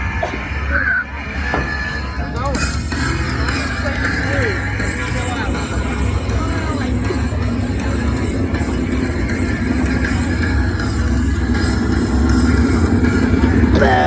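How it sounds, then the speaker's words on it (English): Race car engines fire up for a practice session at a car race, a loud continuous roar of several motors idling and revving together, with crowd babble and voices mixed in throughout. "Engines ready to fire for practice session number 4."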